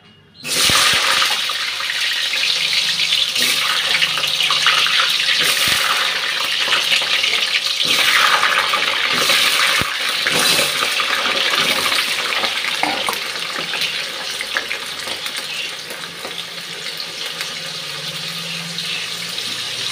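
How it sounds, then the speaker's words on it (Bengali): Potatoes sizzling in hot oil in a pan while cooking chicken curry, a steady hissing crackle that starts abruptly and continues loud and close, slowly easing a little toward the end. "আলুটা ভেজে নিচ্ছি।"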